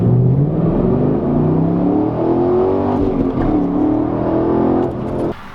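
A manual Chevrolet Camaro 1LE accelerates hard from a red light, its engine note climbing steadily through the revs, loud and close, then easing off near the end.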